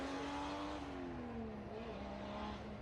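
A Ford Escort race car with a turbocharged 2.5-litre Toyota engine drones steadily at a distance at a sprint event, its pitch slowly falling and shifting as it runs.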